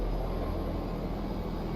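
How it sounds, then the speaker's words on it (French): A loud helicopter sound effect plays as a dense, continuous low droning rumble that holds steady through a short stretch, with no voices over it. "Un gros bruit d'hélico."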